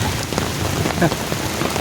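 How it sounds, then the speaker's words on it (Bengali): Heavy rain pours down hard on a zoo garden in Mumbai, a dense, steady hiss of drops striking surfaces close by, with no break through the short stretch. "বৃষ্টিটাও প্রচণ্ড বেগে এসেছে"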